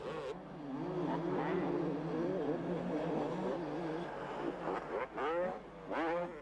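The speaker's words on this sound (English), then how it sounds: "And Jeremy McGrath, once again, early in the race, taking over the lead." Motocross motorcycles racing at an AMA National event, a loud continuous engine drone with rising and falling revs as bikes pass, closer sweeps near the end, no talk.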